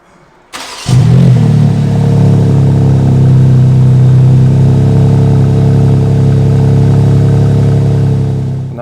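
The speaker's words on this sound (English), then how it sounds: "let's hop on board and we will start this car to have a listen to it" A 2021 BMW M4 Competition coupe's inline six-cylinder engine cranks and fires with a sharp catch, then settles into a loud, steady, deep idle close by with no talking.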